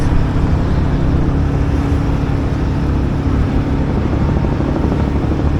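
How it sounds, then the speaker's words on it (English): Over New York City's waterways, helicopters and traffic form a dense, continuous roar heard from a small sailboat, a loud, unbroken wash of engine noise with no voices. "There are helicopters all over the place. We've got traffic noise. It's almost deafening."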